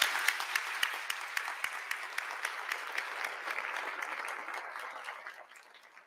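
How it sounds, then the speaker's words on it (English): Sustained audience applause fills a ceremony hall for the launch of the 2022 Trafficking in Persons Report, a steady dense clatter of many hands that tapers off toward the end. "Let's give this amazing group of leaders another round of applause."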